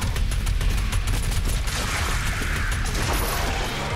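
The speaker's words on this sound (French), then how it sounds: "Faut juste que je tire dessus." Sustained rapid gunfire in the video game Doom Eternal roars loud and close, a dense unbroken stream of shots for the full stretch with no speech.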